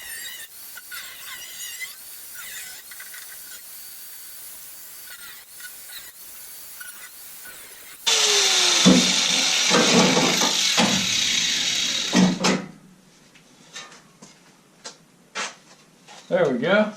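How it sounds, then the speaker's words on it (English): A cutting tool slices through a truck's hood from the underside during a Cummins engine swap, a loud, harsh, squealing burst lasting a few seconds, with talking before and scattered clunks after. "I'm gonna make the last few cuts from this underside."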